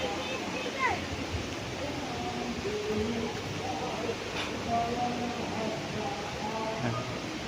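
River water flowing beside a farm lot in Liliw, Laguna, a constant soft rushing wash heard at moderate distance, with someone talking intermittently over it and faint birdsong.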